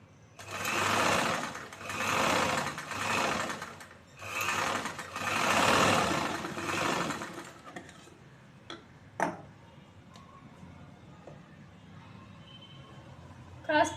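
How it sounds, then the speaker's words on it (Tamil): A sewing machine stitches choli blouse fabric in several steady whirring runs. Each run lasts about a second or two with short pauses between them, followed by quieter mechanical clicks and ticks as it stops. "இது நம்ம மிஷின்லேயே தைச்சிக்கலாம். இதே மாதிரி இந்த சைடும் தைக்கிறோம்."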